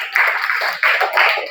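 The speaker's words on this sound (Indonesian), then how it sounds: "Oke, tepuk tangan untuk kita semua." A group of students clapping hands together in a classroom, loud and close, in a few quick rhythmic bursts over about a second and a half.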